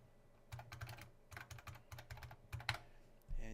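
Computer keyboard typing, a quick run of clicky keystrokes in irregular bursts, close and fairly quiet against a low steady hum, with no talking.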